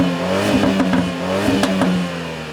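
BMW G20 330i with stock exhaust revving, a smooth, muted engine note rising and falling in a few blips, close and steady.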